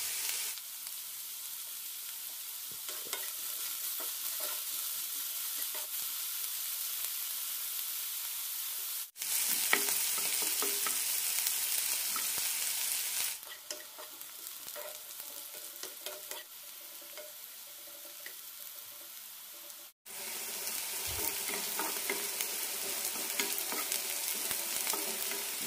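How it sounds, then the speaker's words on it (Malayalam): Sliced bitter gourd fries in oil in a pan until lightly browned, giving a continuous close-up sizzle that swells and dips in level, with no speech. "കഷ്ണങ്ങൾ ചെറുതായി ഒന്ന് ബ്രൗണായി കിട്ടണം, അതുവരെ വറുക്കാം."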